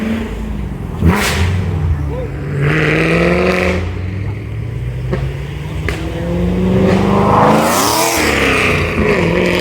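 A loud Corvette engine at a car meet, revving hard with rising pitch sweeps and a passing whoosh, with talk mixed in.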